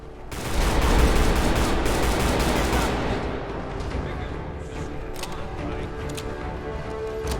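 Gunfire in Fallout 4 erupts as a loud, dense fusillade of rapid shots and bursts, then thins into scattered sharper cracks as the fighting continues.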